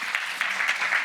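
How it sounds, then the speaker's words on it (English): A start-up day audience claps briefly, a light patter of hands rising in a few soft bursts over about a second. "Again, a round of applause."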